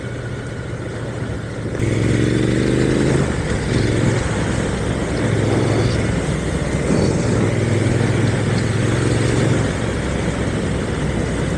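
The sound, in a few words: motorcycle motor running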